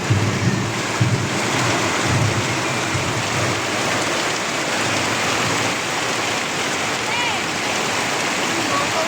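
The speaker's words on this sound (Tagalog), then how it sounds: "Grabe, lakas ng ulan, lakas ng ano." Heavy rain pours steadily in a dense, continuous roar, loud and close, with a few faint low murmurs of voices early on, during a thunderstorm.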